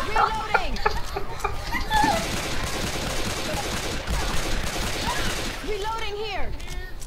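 Rapid gunfire from Left 4 Dead 2 crackles through chaotic gameplay, with bursts of automatic fire layered under excited voices talking and shouting throughout.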